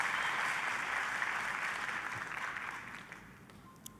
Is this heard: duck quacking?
no